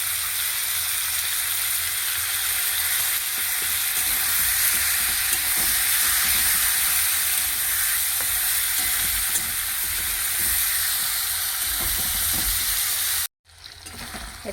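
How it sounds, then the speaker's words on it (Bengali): Chicken frying with ginger garlic paste in a pan gives a loud, steady, dense sizzle that runs unbroken for most of the time, then cuts out briefly near the end before resuming. "একটু ভেজে নেবো ভালো করে"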